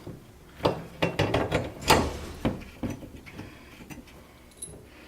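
Lag screws with a 3/8 inch drive being driven through a wall plate into pilot holes; a string of close, irregular metallic ratcheting and clanking knocks, several louder bursts early on, then fading to sparse taps.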